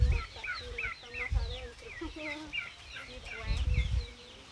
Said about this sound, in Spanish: Pero mire, la gallina se quiere comer el maíz.